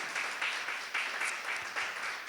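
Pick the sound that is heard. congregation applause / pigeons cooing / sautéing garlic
congregation applause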